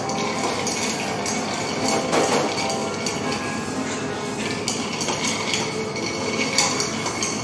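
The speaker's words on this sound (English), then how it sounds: "You want to give a good stir of 20 to 30 seconds." Ice clinks and rattles steadily as a cocktail is stirred with a bar spoon at a barber-themed bar in San Ġiljan, Malta, with busy room ambience behind the continuous close jingling.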